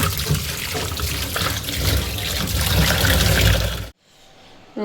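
Water from a tap runs steadily and fairly loudly into chapati dough in a home kitchen, a continuous splashing pour that cuts off abruptly near the end.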